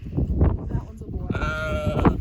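Sheep bleat on a farm, a few close drawn-out bleats, with people talking and calling around them.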